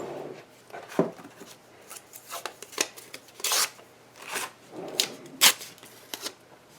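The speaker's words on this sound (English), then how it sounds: "And this I'm going to tape." Craft tape pulled and pressed down during paper card making, a series of short rasping rips and rubs in irregular bursts, close and fairly loud.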